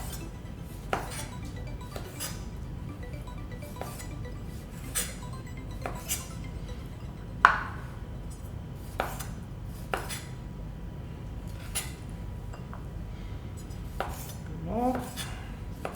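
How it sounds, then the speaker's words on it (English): Knife slicing tomatoes for a salad made from leftovers, sharp clicks against the board repeating irregularly every second or so, with dish and cutlery clinks mixed in, close and moderately loud. "I'm just going to slice them up a little bit"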